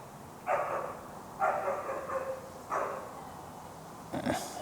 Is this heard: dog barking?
yes